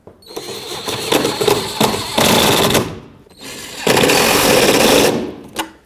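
Power tool driving bolts into the taillight of a 1996-2002 Toyota 4Runner: two loud, sustained buzzing whirs of about two seconds each, separated by a short pause, close up with no talk.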